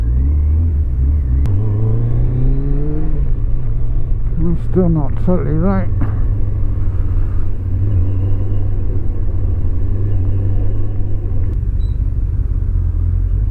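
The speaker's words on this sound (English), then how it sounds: "Engine's ticking over a little fast" A Kawasaki ZZR 1100 motorcycle engine, after hydrostatic lock, idles fast with a steady rumble, a strange sound from the airbox area and a few brief revs. Someone talks over it.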